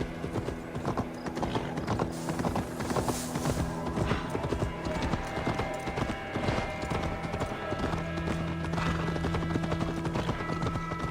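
Horse hooves clip-clop in a quick, rhythmic patter nearby, with a steady hum in the background and a brief whinny.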